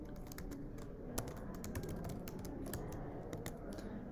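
An email address is typed on a computer keyboard in a quick, uneven run of soft, close keystroke clicks with no other sound.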